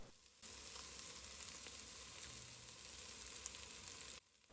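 Whole spices, bay leaves, cloves, a cinnamon stick and minced garlic sizzle in a pot for lamb curry while being stirred, a steady close frying hiss that starts and stops abruptly.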